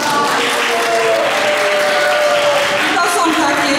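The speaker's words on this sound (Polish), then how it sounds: "Proszę, brawa dla nich." Loud, dense applause from an audience at a school reading-knowledge quiz tournament in Pionki, thanking departing participants, a steady roar of clapping with some voices mixed in underneath.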